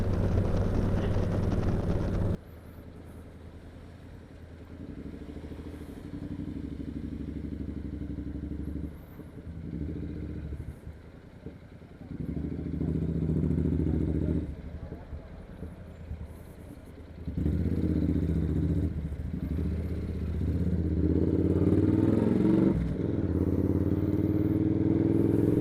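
A motorcycle passes on a road, its engine a steady, moderately loud rumble that swells and fades, with some wind buffeting and no talk.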